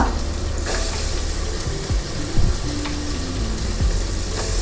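Chopped onion sautés in a hot pan for pav bhaji, a loud, steady close sizzle with a few soft stirring scrapes, no voices.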